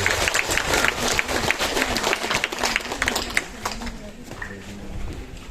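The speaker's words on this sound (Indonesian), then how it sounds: "Baik, tepuk tangan untuk suster." A church congregation claps for a nun during a homily, a broad wash of many hands applauding at moderate volume that gradually thins out toward the end, with a voice speaking over it.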